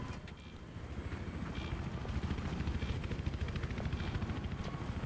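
Helicopter in the video game Battlefield 3, a loud, close, continuous rotor thrum with rapid rhythmic beating throughout, alone without talk.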